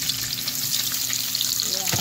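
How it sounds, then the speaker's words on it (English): Shrimp fry in a pan after garlic is taken out, making a close, continuous sizzle with light crackling, ending in a brief scrape or stir. "I'm not going to fry it for long."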